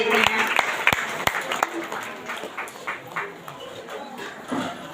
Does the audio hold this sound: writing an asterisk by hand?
no